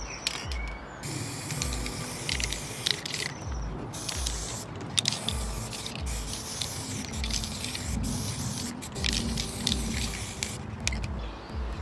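A spray can applies a first coat of paint to a homemade microphone in a series of close, loud hissing bursts, broken by brief pauses and small clicks of the nozzle.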